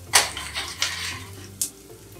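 Garlic frying in hot oil for Singapore chicken rice, stirred with a utensil: a steady low sizzle broken by a few sharp scraping stirs, close and fairly quiet, with no talking.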